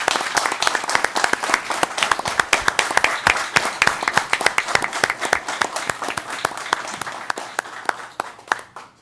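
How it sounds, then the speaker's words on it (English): A round of applause at a regular city commission meeting, many individual claps clearly distinguishable in a lively, moderately sized crowd, steady for several seconds then thinning and fading out at the end. "Let's give him a round of applause."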